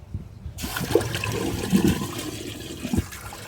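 Water is poured into a blocked wastewater pipe, a steady rushing gush with gurgling splashes, moderately loud and close, starting suddenly after a brief quiet moment.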